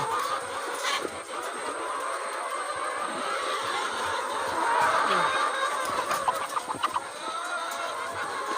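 Laying hens cluck and shuffle as feed is scattered for them, their busy low clucking layered over a steady rumbling background, with a few scattered knocks toward the end.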